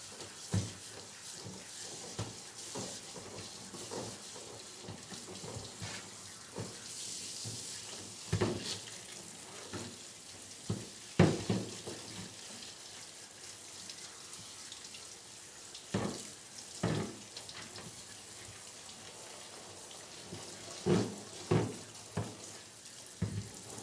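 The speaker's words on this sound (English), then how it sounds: "As we come in now and we rinse conditioner off." Water from a hose fitted with a flow-softening cover rinses conditioner off a dog during a grooming session, a steady splashing flow with occasional louder spatters and knocks, close and without talk.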